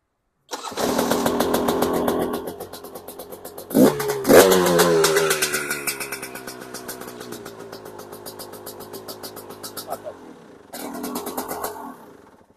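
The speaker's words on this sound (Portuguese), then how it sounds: "Vou ligar agora a moto" A two-stroke MXF 300 TS motorcycle engine cranks, sputters to life and revs up, then settles into a buzzing idle that cuts out and restarts briefly.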